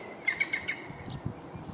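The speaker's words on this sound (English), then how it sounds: "Magpie, woodpecker." Birds call outdoors at a garden allotment, where a magpie and a woodpecker are present: four quick bright chirps come first, then softer scattered calls, fairly faint and with no talk.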